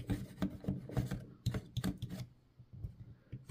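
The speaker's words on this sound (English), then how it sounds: "we're going to first knock them down with our hobby knife" Repeated short rasping scrapes of a hobby knife over hard plastic edges of a model building, close and dry, in quick uneven strokes with brief pauses.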